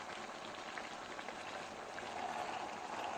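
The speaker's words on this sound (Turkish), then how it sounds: "domates bu şekilde kavuruyorum" Tomatoes with garlic sauté in a pan for a winter shakshuka, giving a soft, continuous bubbling crackle at a steady, fairly quiet level.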